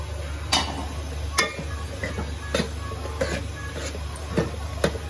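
Chopped tomatoes dropped into biryani masala in a cooking pan, giving a series of sharp scraping and clinking stirring strokes over a steady low sizzle, close and moderately loud with no talking.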